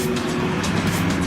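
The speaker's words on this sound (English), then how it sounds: "I'm sorry, there's a car." A car drives past outdoors, a steady loud rumble of engine and tire noise close by, with no talking.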